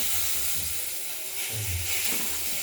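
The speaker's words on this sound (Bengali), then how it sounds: "ফোড়ন দিলাম লঙ্কা, তেজপাতা, তেজপাতা" Dried chillies and bay leaves go into hot oil as a tempering for a rohu fish curry, giving a continuous low hiss and sizzle with a slight swell partway through, moderately quiet and without speech.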